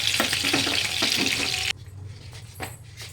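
Seekh kebab pieces sizzle and crackle as they fry in a pan, a dense busy frying sound that cuts off abruptly halfway, leaving quieter background with a few faint clinks.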